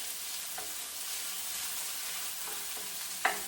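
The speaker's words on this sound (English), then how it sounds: "I'm just going to break the pork into like small pieces" Ground pork sizzles and fries steadily in a pan while a utensil stirs and breaks it apart, a constant close crackle with a few scraping strokes and a sharper clack near the end.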